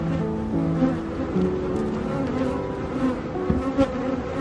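Dense buzzing of many honeybees swarming around a beehive as a box is set in front of it, a steady close drone with individual bees passing near throughout.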